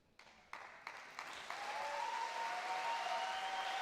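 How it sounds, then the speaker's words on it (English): A crowd at the Swordfish 2014 tournament applauds the organising team. A few scattered, separate claps come first, then the clapping swells into steady, fairly faint applause that sounds some distance away. "The crowd applauding all the big team that has made our tournament possible"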